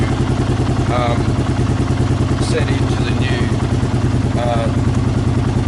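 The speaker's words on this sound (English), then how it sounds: "So just let them idle for a little bit" A Kawasaki KLR 650 motorcycle with a Mikuni carburetor idles steadily nearby, a rapid even thumping that holds throughout while someone speaks briefly over it.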